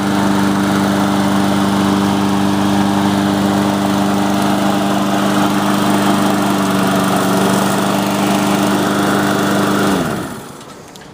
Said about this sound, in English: the new Husqvarna self-propelled lawnmower, the Hu700H